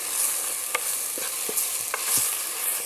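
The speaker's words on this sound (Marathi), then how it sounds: "हळद सुद्धा परतून घेऊया." Onion, ginger-garlic paste and turmeric sizzle steadily in a pan as a spoon stirs with a few light scraping taps, close and without talk.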